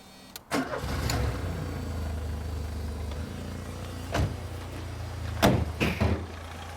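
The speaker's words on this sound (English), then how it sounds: "Shall we have a little listen to the engine?" A Ford car with a CVH engine starts up with a sharp crank and catch, then settles into a steady low idle; a few door clunks and knocks sound over the running engine.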